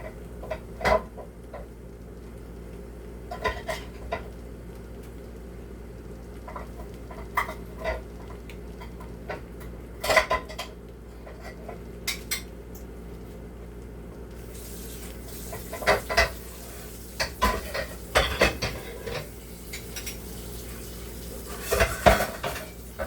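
Biko, a sticky rice dish, being stirred in a kawali pan, giving scattered metallic scrapes and clinks at an irregular pace over a steady low background hum, with no talking.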